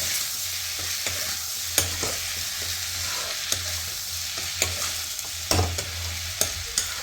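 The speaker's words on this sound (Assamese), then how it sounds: "আৰু বিলাহীখিনি দি মই ধুনীয়াকৈ লৰাম।" Potatoes and tomatoes fry in a pan with a steady sizzle, while a spoon stirs them, scraping and knocking against the pan in irregular strokes, close and without talk.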